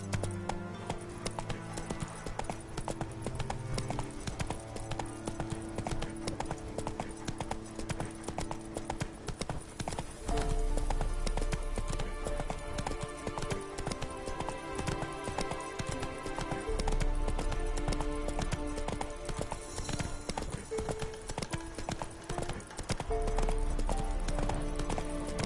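A horse galloping in The Witcher 3 on Death March difficulty, a steady drumming of hoofbeats over a continuous bed of in-game music and ambience throughout.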